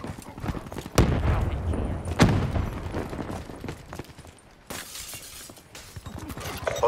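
A grenade blast in Black Ops 3 gives a sharp, loud burst with a crashing tail, followed by a second hard impact about a second later and lighter game noise.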